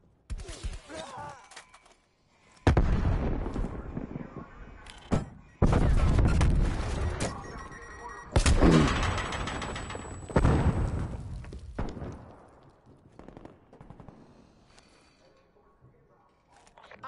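Artillery shells land in a Call of Duty Cold War hardcore multiplayer match, sending heavy booming blasts one after another with rumbling tails and some gunfire mixed in. Players talk over the barrage.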